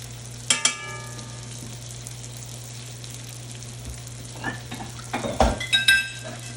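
A NY strip steak cooked in a cast iron pan: a steady sizzle under a constant low hum, with a sharp metallic clink early on and a burst of scraping and clattering as the steak is handled near the end.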